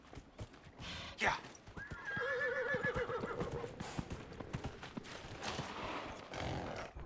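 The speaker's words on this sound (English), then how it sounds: "Good horse." Horse in the video game Dragon Age Inquisition gives a loud, quavering whinny in the middle of the clip, its hooves clip-clopping in a quick rhythm before and after.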